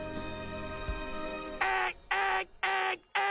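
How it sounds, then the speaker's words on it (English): An animated cartoon alarm clock rings in four loud, even bursts with short gaps, following a soft musical tone and a low thump. "Oh, alarm clock."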